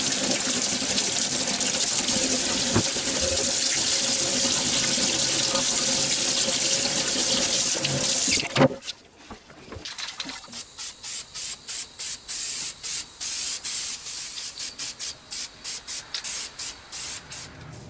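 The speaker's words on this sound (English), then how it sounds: "take it up to the sink in the laundry room and wash off the excess charcoal using a wire brush" Water runs hard from a tap into a laundry room sink for about eight seconds while charcoal is washed off a Lichtenberg-burned wooden tool handle, then gives way to rapid rhythmic scrubbing of a wire brush under the flow.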